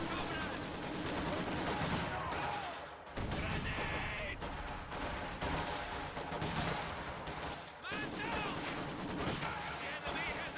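A Maxim machine gun and rifles fire in a World War II strategy video game battle: dense, continuous bursts and rattling shots, loud and layered, with a voice talking over the gunfire throughout.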